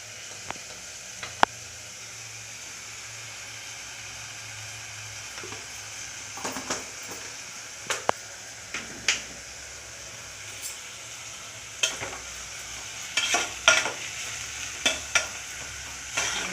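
Spices crackle and sizzle in hot oil for a tempering, a steady soft hiss broken by sharp pops and a few stirring clicks, close by with no talking.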